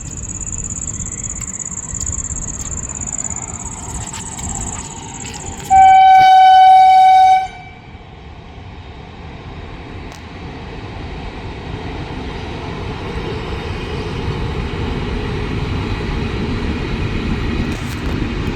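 A passing train rumbles steadily and sounds one long, loud horn blast midway through, then keeps rumbling past.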